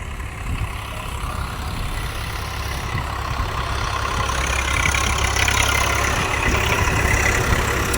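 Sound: tractor engine running

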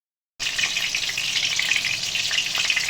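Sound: pointed gourd (potol) frying in oil

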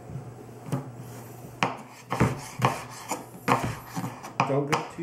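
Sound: knife cutting through a potato

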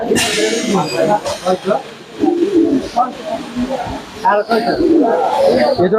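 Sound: pigeons cooing at a pigeon market

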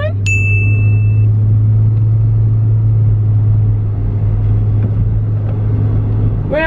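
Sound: car driving

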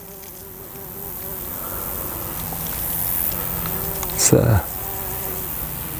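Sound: common carder bumblebee buzzing on bird's foot trefoil

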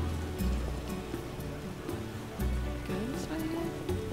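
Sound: rain in The Witcher video game

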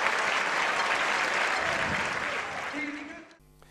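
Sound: crowd applauding football player

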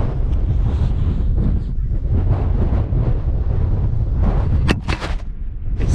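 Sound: strong wind on Cox Tor, Dartmoor

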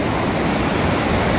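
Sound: river water rushing at Manikaran Sahib

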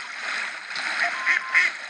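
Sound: ducks quacking in video game World of Tanks Blitz

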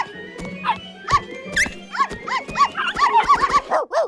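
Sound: puppies barking in Barbie cartoon

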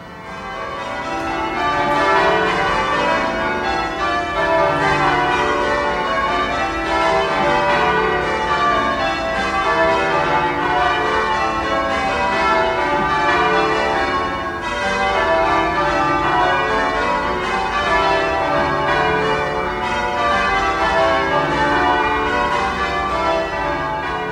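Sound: church bells change ringing

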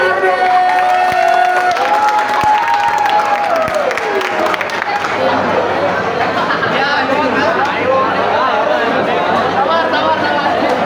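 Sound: audience applauding and cheering for the performers

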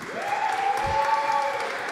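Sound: audience applause

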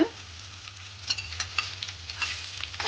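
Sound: peanuts and cashews frying in hot oil

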